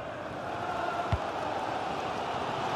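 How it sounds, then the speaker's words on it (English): Football stadium crowd keeps up a steady, distant roar of cheering and chanting throughout, with one brief thud near the middle. "Well, the crowd are great."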